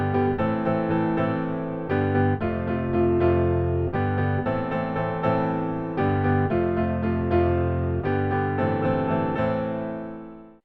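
A full band plays a looping four-chord rock progression, with strummed chords changing roughly every second and sustaining steadily, loud and alone.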